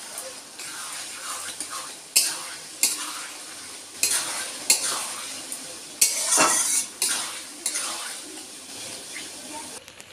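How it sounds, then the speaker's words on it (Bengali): Fried fish heads are stirred in a sizzling pan of curry with fresh spinach, with sharp repeated metal scrapes and clinks of a spatula over a steady frying hiss, close by. "মাছের মাথাটা দিয়ে আমি আবারও একটু ভালো করে নেড়ে নেবো এটাকে।"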